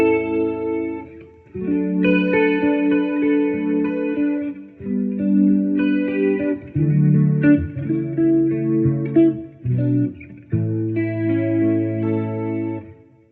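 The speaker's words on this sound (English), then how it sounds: "We can go reverb with vibrato, reverb with chorus, or reverb with rotary. I have it on the chorus setting right now." Electric guitar played through a Lovepedal Rotary Reverb set to reverb with chorus, a close, clean melodic passage of sustained chords and single notes with shimmering, swirling modulation and lingering tails.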